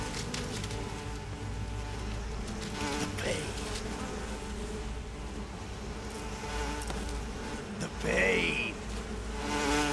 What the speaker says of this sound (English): Look at all the chunks of bees flying into the river.